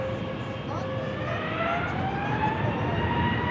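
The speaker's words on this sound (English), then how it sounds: "Next up, an A321neo." An Airbus A321neo jet passes with a steady, loud engine roar and a rising whine gliding upward in pitch, heard by an airport, with no voices.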